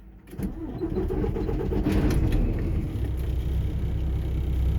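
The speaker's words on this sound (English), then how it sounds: "Now I'll start the truck." A truck engine cranks and starts, then settles into a steady, loud idle rumble close by, with no talking.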